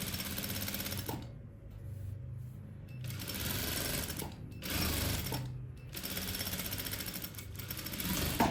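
Sewing machine stitching a French seam along the shoulder of a kimono, running in several quick bursts separated by short pauses, fairly quiet and close, with a steady mechanical whir.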